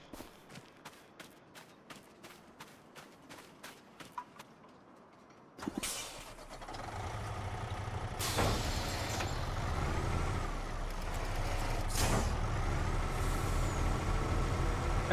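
A truck in the video game Farming Simulator 25: rhythmic clicking steps first, then a sharp air-brake hiss as the engine starts and settles into a loud steady idle with further brief hisses.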